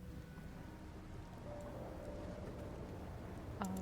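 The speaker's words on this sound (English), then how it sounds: "as the rain continues to rumble, as thunder goes in the distance" Rain falls steadily beneath a low distant rumble of thunder, an even broadband wash with a faint tonal line and a brief sharper knock near the end, with no voices.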